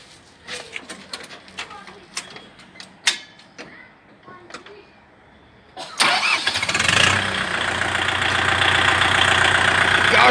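A Kubota MU4501 four-cylinder mini 4x4 tractor cranks and fires up after some faint clicks and rustling, then settles into a loud, steady diesel idle close by that runs to the end.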